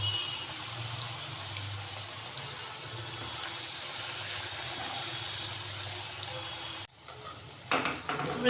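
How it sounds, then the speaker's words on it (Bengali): Round dough balls for anandu naru frying in hot oil in a kadai, a steady close sizzle and bubbling that cuts out abruptly near the end before a few clatters and renewed frying noise. "আমি এই গোল গোল শেপে বানিয়ে রেখেছি এগুলো তেলের মধ্যে ভেজে দেবো"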